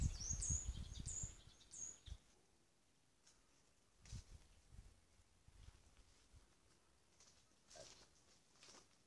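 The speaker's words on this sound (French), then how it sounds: "Ah, ça c'est agréable d'entendre les oiseaux." Small birds chirp and sing in a grotto garden with trees, a few bright calls near the start, then faint scattered tweets over quiet rustling and soft footsteps.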